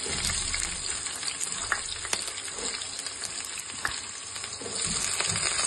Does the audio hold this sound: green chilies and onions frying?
yes